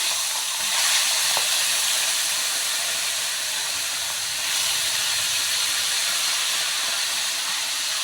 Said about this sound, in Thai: ทอดให้เหลืองกรอบเลย